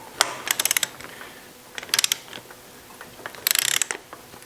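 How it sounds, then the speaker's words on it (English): A torque wrench ratchets on the pinion shaft nut of a Porsche 902 transmission during a rebuild. Three close, crisp bursts of rapid clicking are separated by brief pauses, with no voices. "The tightening torque on the pinion shaft stretch bolt is 110 to 120 Newton meters."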